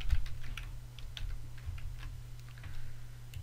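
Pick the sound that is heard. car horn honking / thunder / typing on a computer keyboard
typing on a computer keyboard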